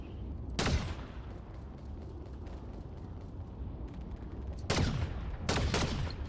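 Gunfire in Fortnite Chapter 6 Season 3 during the Super Showdown event: three sharp bursts of shots ring out, widely spaced over a low, steady background rumble, moderately loud and close.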